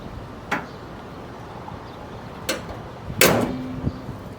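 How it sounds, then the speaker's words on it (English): The hood of a 10th-generation Honda Civic is shut, with a couple of light knocks first and then a firm closing thud, close by in a quiet space. "Now close the hood."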